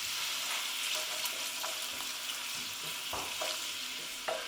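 Chopped onions and celery fry in olive oil in a pan, giving a close, steady sizzle with soft stirring scrapes and a few light knocks.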